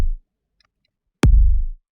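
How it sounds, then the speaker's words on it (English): A synthesized kick drum, made with a synth preset for an Apex Legends audio redesign, hits twice: a short thump at the start, then after a silent gap a louder punchy kick with a sharp click and a deep booming tail lasting about half a second. "It's like a kick drum synthesizer thing."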